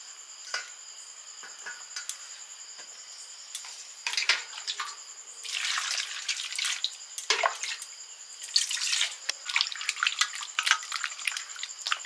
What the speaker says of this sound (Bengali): সবজিগুলো ধুয়ে নিচ্ছি প্রথম ধুয়ে জল ফেলে দিয়েছি পরের বারে আবার ধুয়ে নিচ্ছি